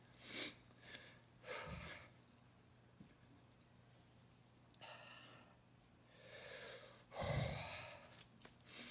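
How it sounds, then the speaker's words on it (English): Heavy breaths come in several close, irregular puffs and gasps, separated by quiet pauses and a low steady hum. "Sorry for the heavy breathing."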